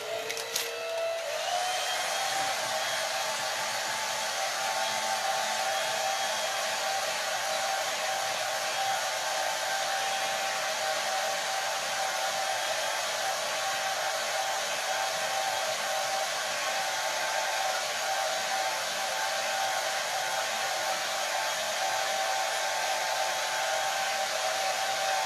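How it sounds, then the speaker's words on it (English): A hair dryer blows steadily on wet acrylic paint for about twenty-five seconds, a loud, close, continuous broadband whoosh with a faint whine, no voices. "I'm going to blow dry it for just a second"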